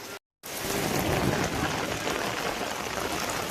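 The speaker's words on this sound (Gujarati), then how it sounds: "બતાવું મેં તમને કે કેવો વરસાદ છે" Heavy monsoon rain pours over farm fields in Dolvan taluka near Vyara, a constant loud wash of drops that begins after a split second of silence and continues evenly.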